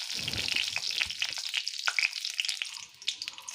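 Panch phoron spices, dried red chili and a bay leaf sizzle and crackle steadily in hot oil for a home-cooked Assamese dish, close and continuous, with scattered sharp pops and light stirring and no voices.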